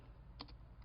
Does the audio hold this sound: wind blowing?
no